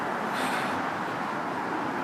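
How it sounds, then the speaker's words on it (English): Outdoor road traffic washes past in a steady broadband hiss, a passing car rising slightly then fading, moderately distant with no talk. "excuse the car noise."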